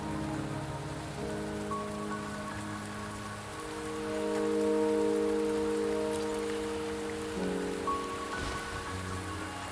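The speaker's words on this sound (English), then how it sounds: "Don't worry, the rain won't last much longer." Steady rain falls in the video game Wuthering Waves, a continuous hiss of drops on surfaces under sustained tonal music, even and moderately loud throughout.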